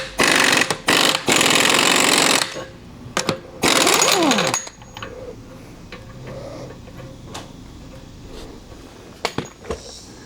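A power tool loosens the ball joint nut on a 1976 Jeep CJ-5 Dana 30 front axle with a 34mm socket. It fires in loud, close rattling bursts: several short hits, a long burst, a pause, one more long burst, then quiet.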